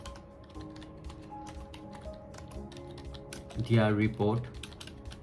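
A ChatGPT prompt is typed on a computer keyboard as a close, rapid patter of key clicks under steady background hum, while a person speaks over the typing near the end.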